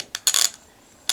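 A rebuilt Craftsman model 44875 ratchet, working again despite a broken tooth, gives a few quick metallic clicking bursts close up, one short, then a longer ratcheting run, then another brief burst after a pause.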